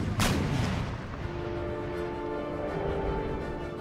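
Naval cannon fire in Empire Total War, one sharp booming blast near the start that rolls off into a long rumbling decay over the open sea.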